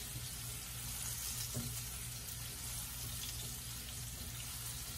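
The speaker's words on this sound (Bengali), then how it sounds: "এটাকে হালকা করে একটু ভেজে নেব।" Chopped onion, about three tablespoons, sizzles lightly in two tablespoons of hot oil in a pan, with a steady, fairly faint frying hiss that carries on throughout and has no talk over it.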